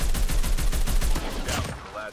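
Rapid bursts of automatic gunfire in the mobile shooter COD Mobile, loud and dense for about a second and a half before trailing off, with a brief voice at the end.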